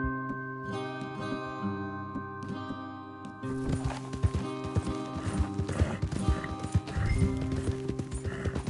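Horses in the Western video game Red Dead gallop in a steady clip-clop of hooves that grows louder partway through, with a whinny, music beneath and little talk.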